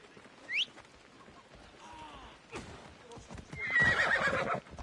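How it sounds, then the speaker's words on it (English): A horse whinnies in a sharp, high burst, then clip-clops along with hooves knocking in an uneven rhythm, ending in a louder, longer neigh close by. "Time for ride on my steed."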